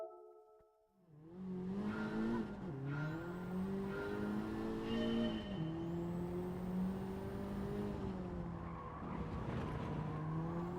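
A racing car in a video game revs hard and slides, its engine whine rising and falling in steady pitch sweeps with tire squeal and skidding throughout, loud and close, with no talking.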